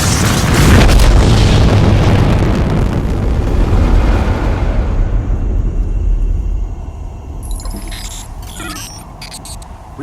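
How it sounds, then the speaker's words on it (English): A big evil black blob explodes in the video game Destiny with a loud, heavy boom that rumbles and slowly fades over several seconds, followed by faint electronic tones. "we explode a big evil black blob thing and the day is saved"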